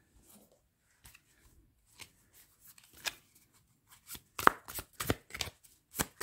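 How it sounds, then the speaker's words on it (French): Tarot cards drawn and handled by hand: a series of soft, dry card snaps and slides, scattered and irregular, growing busier and louder toward the end, with quiet gaps between. "On va tirer toutes les cartes."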